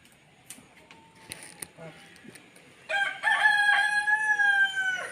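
A rooster crows once, loud and near, in a long sustained call that fills the second half, after a few faint clicks and rustles in an otherwise quiet setting.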